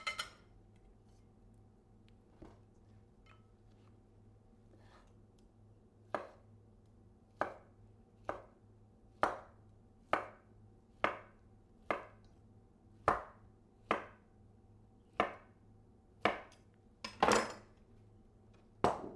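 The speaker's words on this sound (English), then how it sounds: "now we're gonna slice up our tempeh, which has been marinating overnight" Marinated tempeh is sliced with a knife on a cutting board, a quiet close series of about a dozen crisp, evenly spaced chops, sparse at first, then in a steady rhythm.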